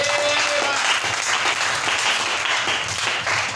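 A church congregation applauds in praise during a French-language worship service, a steady, dense wash of clapping that fills the whole stretch without pause, with a brief tone early on.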